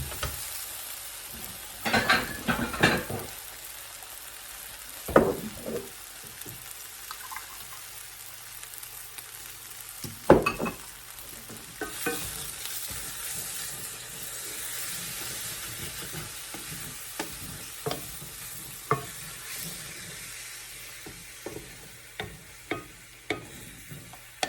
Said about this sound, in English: And as that milk mixes in there, it thickens up